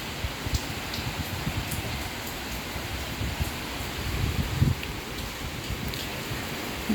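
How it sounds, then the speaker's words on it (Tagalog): Rain and strong wind during a typhoon, a steady dense roar of rainfall and gusts close by, continuous throughout, with faint scattered drips and no talk. "Lakas ang hangin."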